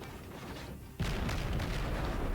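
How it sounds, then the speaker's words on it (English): Naval guns in World of Warships open fire on an enemy ship: after a low rumble, a sudden heavy boom lands and a sustained roaring barrage follows, loud and close. "We're unloading our guns on him now"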